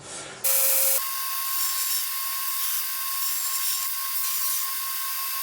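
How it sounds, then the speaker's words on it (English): An angle grinder runs on steel pieces, chamfering their cut ends ahead of welding for a coffee table. It gives a loud, steady high-pitched whine with a sharp start, then keeps a constant grinding tone throughout without talk. "So I want to grind at least these ends, so after they're welded up, they'll be easier to sand them."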